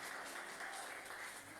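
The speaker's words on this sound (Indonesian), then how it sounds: "tepuk tangan buat pemain musiknya" A church congregation applauds the young musicians after a worship service, with dense, steady clapping from many hands throughout the short moment.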